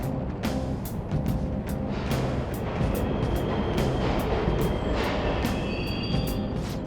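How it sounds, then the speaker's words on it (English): Subway trains run in the Persona 5 Royal video game, giving a steady, dense rumble with regular clacking ticks throughout, like cars rolling over rail joints. The sound is continuous and moderately loud, with no voices. "The trains are totally running!"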